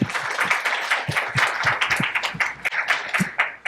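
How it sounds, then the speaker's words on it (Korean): A conference audience gives a speaker on AI agent service verification a short, moderately loud round of applause, with distinct overlapping claps in a fairly sparse, uneven patter. "큰 박수로 부탁드립니다."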